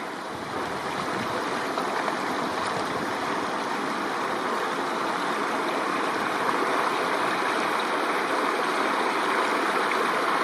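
Steady, full rushing of the Pipestone River while crossing it, constant and close throughout with no pauses.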